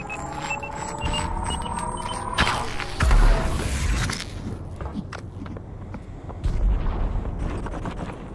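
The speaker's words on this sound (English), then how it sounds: "Oh, I hear a grenade." A grenade goes off in the VR shooter Population: One, with a sharp loud blast near the three-second mark. Gunfire-like bangs and game ambience follow, plus a second heavy burst later on.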